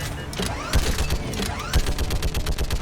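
Rapid bursts of gunfire from a Mass Effect Legendary Edition firefight crackle in dense, repeated volleys, with heavier thumping shots landing every second or so, loud and continuous with no talking.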